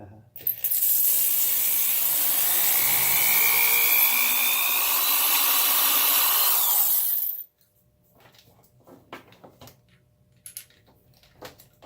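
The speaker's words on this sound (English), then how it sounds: "Helps to tighten up your drill a bit." A high-pitched drill whines loudly for several seconds, its pitch wavering as it bores a hole in a Suzuki Sirius 14 knock-off harmonica, then cuts off abruptly, leaving quiet tapping and handling noises.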